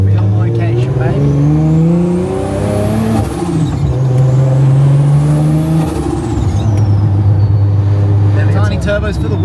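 Car with small turbochargers driving off hard: loud, close engine revving in rising pulls with gear changes, high turbo whine climbing and falling above it, and a voice talking over the engine.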